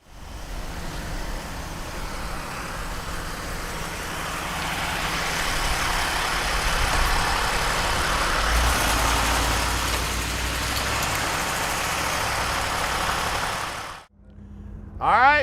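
A 1955 Chevrolet Bel Air convertible, rotisserie restored, its engine running with a steady low rumble that builds slightly and holds for over ten seconds before cutting off abruptly.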